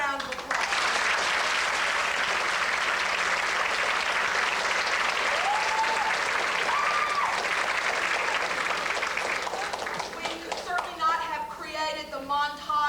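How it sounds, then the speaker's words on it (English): A theater audience gives a long, loud round of applause for an art teacher and her students, dense clapping sustained for about ten seconds before thinning out as a voice begins speaking. "will you please give Mrs. Thomason and her art students a big round of applause"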